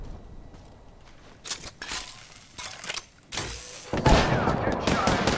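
Gunfire from the video game Apex Legends, heard as several short bursts of shots that build to a dense, loud volley near the end, with faint game background between the bursts.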